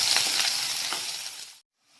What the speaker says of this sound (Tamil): நான் வெங்காயம் கருவேப்பிலை போட்டுக்கிறேன் இப்போ நல்லா வதக்கிக்கிறேன்